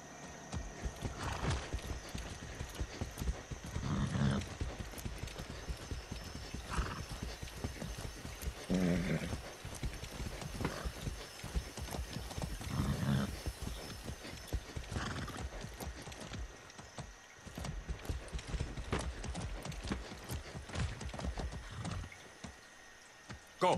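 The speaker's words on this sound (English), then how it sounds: "Come on, horsey, you can do it. You can climb up anything." A horse in Far Cry 6 clip-clops steadily over ground while climbing, its hooves tapping in an uneven rhythm, with a few soft whinnies and a quiet voice now and then.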